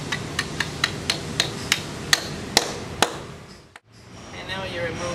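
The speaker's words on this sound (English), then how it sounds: "And you just take your sledgehammer and drive it into the hole." Sledgehammer blows drive a concrete anchor with its setting tool into a drilled hole for a diamond core drill stand, about eight sharp metallic strikes that come faster and louder, then a brief pause and low hum.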